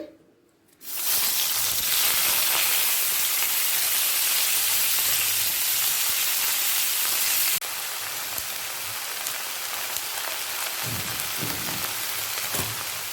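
Fenugreek greens drop into hot oil and set off a loud, steady hiss and crackle of frying after a brief quiet start. The sizzle stays dense and close, dropping slightly in level partway through with a few soft thumps near the end.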